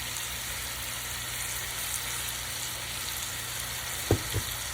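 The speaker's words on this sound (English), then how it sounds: "we're going to let these tenderloins cook on low until they get a good, pretty golden brown on one side" Pork tenderloins fry on low heat in a pan with a quiet, steady sizzle, broken near the end by a couple of soft utensil knocks.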